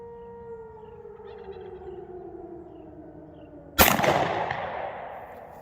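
A single shot from an Altor 9mm single-shot pistol, one sharp loud report partway through that decays into a long echoing tail, after a quiet stretch of faint tonal background.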